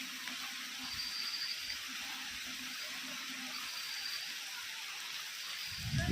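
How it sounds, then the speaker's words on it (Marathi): Heavy rain pouring down in a vegetable garden, a dense, continuous hiss of falling water at steady volume throughout, with no voices. "खूपच जोरात पाऊस आला."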